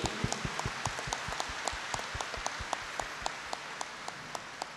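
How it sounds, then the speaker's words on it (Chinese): An audience claps during a Buddhist memorial ceremony in Malaysia, the claps landing in an even, steady rhythm at moderate volume with no voices over them. "掌声鼓励。"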